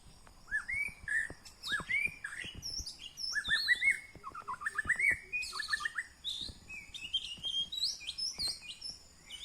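A Thai forest songbird, the Bin-la dong, sings in the forest with rapid repeated bright whistled phrases, fairly faint and slightly distant, with no talking over it.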